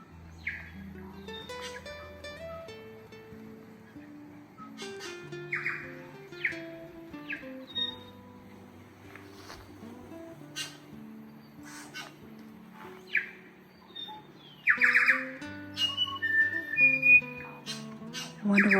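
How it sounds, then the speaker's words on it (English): Birdsong in a New Zealand beech forest on the Queen Charlotte Track: clear whistled phrases and chirps that repeat and shift pitch, close and fairly loud, with a few sharper calls toward the end and no voices. "Hear the bird song?"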